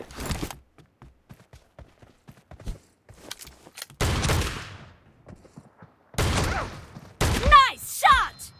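Shotgun blasts in a one-on-one room match of a shooting video game: a few loud, sharp booms spaced seconds apart amid quiet clicks and small game noises, one followed by a short ringing effect.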